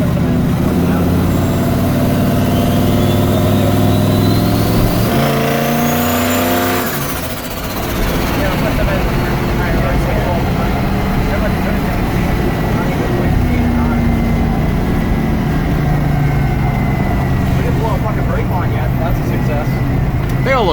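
A Winnebago motorhome fitted with a swapped-in GM LS V8 engine, running at higher RPM with a slightly lean mixture, a loud steady drone that holds for about twenty seconds, with people talking over it.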